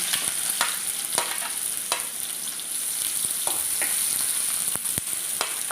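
Mustard seeds and onion sizzle in hot oil in a pan, a steady loud frying hiss broken by frequent sharp pops and crackles, with no voices.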